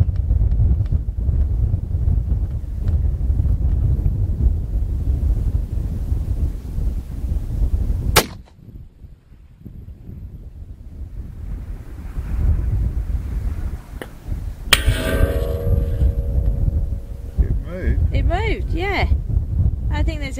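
Strong wind at an outdoor long-range rifle range buffets the microphone with a loud, continuous low rumble, broken by one sharp shot crack midway. Voices are faintly present.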